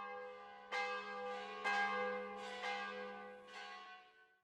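Church bells ring at noon in Zagreb, four clear strikes about a second apart, each ringing out and fading over a steady hum, with no voices.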